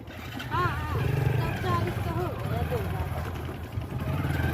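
A motorboat carrying passengers and motorbikes across a river in rural India, its engine a steady low drone under near, continuous talk from several people.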